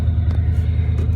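A Ford F150 truck engine runs at a steady idle, giving a close, loud, low rumble that holds evenly throughout.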